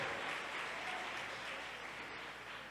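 Sustained applause from a worship congregation fills the space, a thick, even patter of many people clapping that holds steady throughout, slightly fading toward the end.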